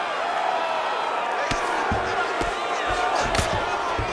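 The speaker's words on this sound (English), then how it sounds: "no surprise, the crowd pops in" A UFC arena crowd roars steadily through a grueling ground battle in the Charles Oliveira vs Arman Tsarukyan fight. Sharp thuds of landing strikes punctuate the constant, dense noise, with a voice faintly mixed in.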